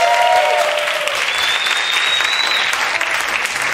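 Loud, dense applause from a crowd at a Pride 2022 show for the performer Raki Ripper, continuous throughout with a whoop rising above the clapping.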